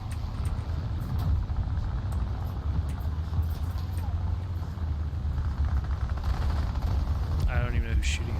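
Gunfire crackles through a steady low engine rumble, with scattered shots and bursts of automatic fire mixed into constant vehicle noise, loud and close throughout, with a sharper burst near the end.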